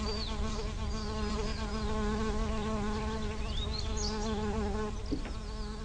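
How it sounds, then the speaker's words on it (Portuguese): Bees and other insects buzz continuously in a dense, steady drone close by, with wing tones rising and falling and no pauses. "Quando os insetos, como as abelhas,"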